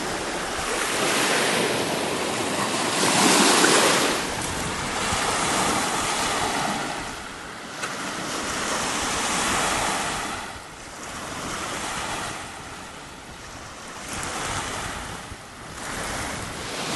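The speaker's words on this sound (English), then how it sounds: "It's kind of windy." Steady wind gusting across an open space, with a broad rushing hiss rising and falling over the whole stretch; surf-like roar underneath, no talking.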